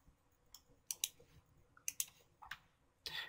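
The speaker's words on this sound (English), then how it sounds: "Let's click OK." Several light computer mouse clicks at a desk, scattered quick taps over a few seconds with a brief rustle at the end, quiet and close, with no talk.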